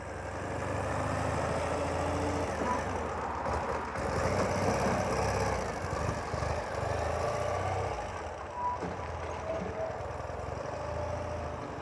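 A Ural Retro Classic motorcycle engine runs steadily, a continuous mid-pitched rumble that holds at an even level throughout with slight swells, as if the bike is riding nearby.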